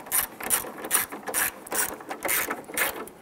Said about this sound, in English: Now you're just securing the plastic, just gently snug those down.